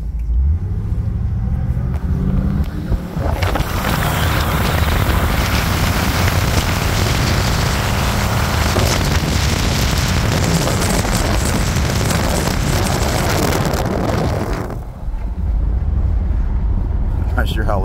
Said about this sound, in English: Wind noise.